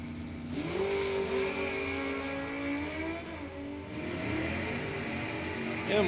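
Drag race cars launch at Numidia Dragway during a Summit Series points race, their engines roaring and revving loud and steady from the start line, with faint talk underneath.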